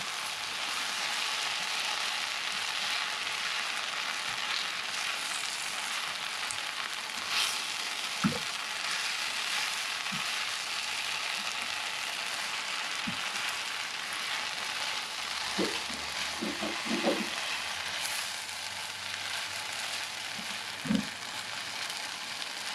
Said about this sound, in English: Finally, you throw in the eggs. And you give it all a chance to cook down.